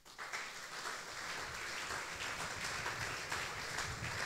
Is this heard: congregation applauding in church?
yes